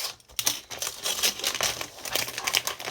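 Plastic packaging from an online-bought parcel crinkling and rustling as it is unwrapped by hand, close and busy, with irregular crackles and brief tearing-like bursts throughout.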